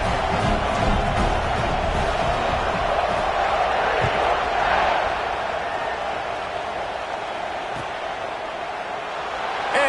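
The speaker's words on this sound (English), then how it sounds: "this crowd is buzzing after that last score" A football stadium crowd buzzes after a touchdown, a steady, dense roar of many voices that holds at an even loud level throughout without sharp peaks.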